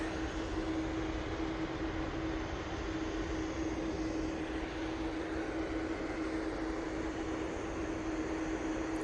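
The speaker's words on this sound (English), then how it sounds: "we've still got a line-up of arriving aircraft over on taxiway" A fixed-wing airliner's engines roar steadily at Manchester Airport, a continuous loud drone with a constant tonal whine heard from a distance outdoors, with no talking.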